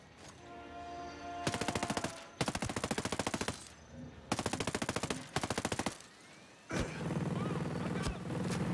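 Gunfire in the video game Ghost Recon Breakpoint: several loud, sustained bursts of rapid automatic fire separated by short pauses, followed by a rumbling vehicle-like drone and a single sharp shot.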